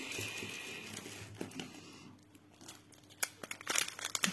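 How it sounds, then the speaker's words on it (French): Soft crinkling and rustling of a cat pawing at paper or plastic during a diamond painting kit unboxing, getting busier and sharper near the end, close by and fairly quiet. "Les petits bruits que vous entendez, c'est le chat qui fait des bêtises."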